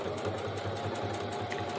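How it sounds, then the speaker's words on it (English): Sewing machine running a straight stitch across a tote bag strap handle, a steady close, loud mechanical whir with rapid rhythmic needle pulsing throughout, no talking. "So what I'm going to do is just go ahead and sew across this line here."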